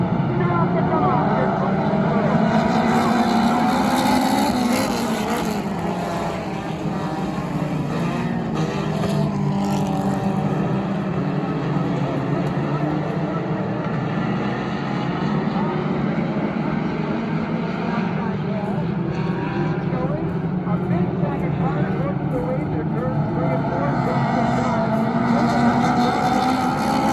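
Nineteen vintage race cars roar off together at New Egypt Speedway, a loud, dense, continuous engine drone that holds steady throughout with shifting pitches, while people talk over it.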